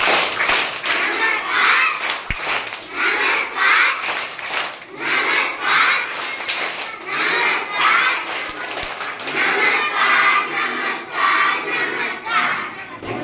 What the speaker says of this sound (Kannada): ಮಕ್ಕಳೇ ಇವಾಗ ನಮಸ್ಕಾರ ಚಪ್ಪಾಳೆ ಮಾಡೋಣ